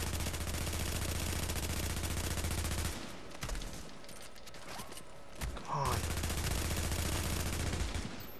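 Enemy gunfire in The Division: long, dense bursts of rapid automatic shots, a short mechanical clatter during a lull, then more sustained heavy firing, loud and continuous.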